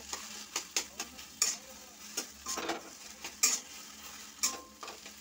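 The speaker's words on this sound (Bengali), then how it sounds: "যতক্ষণ না ঝরঝরে হচ্ছে ভালো করে নাড়তে থাকবো কচুর শাকটা।" Taro leaves fry in a wok over a high flame, with a faint sizzle beneath scattered, crisp taps and scrapes of a spatula stirring at an uneven pace.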